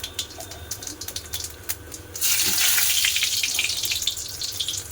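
Onion drops into hot oil with cumin seeds and breaks into a loud, close, steady sizzle about two seconds in, after a quieter stretch of faint background noise.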